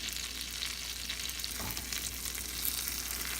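Pancakes fry in butter in a pan with a steady, close sizzle that holds at an even level the whole time, with a faint scrape of a utensil near the middle.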